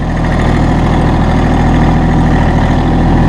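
A new Massey Ferguson GC1723E sub-compact tractor engine idles steadily, a close, even diesel rumble with a regular low pulse and no talk over it.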